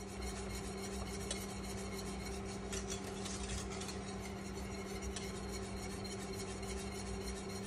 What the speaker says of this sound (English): Feel the drag on the whisk, meaning that I can feel the thickness.